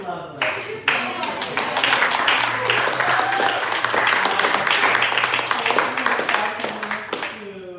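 A crowd claps and applauds for Lydia at a hospitality society food showcase, with loud, dense, sustained clapping for several seconds and some voices mixed in.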